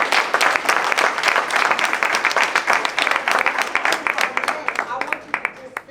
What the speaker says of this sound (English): let's give ourselves a hand clap for that